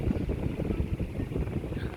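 Air is blown over freshly boiled spaghetti, coated in olive oil, to cool it quickly: a steady, close, rushing whoosh that carries on without a break.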